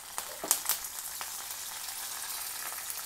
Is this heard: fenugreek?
yes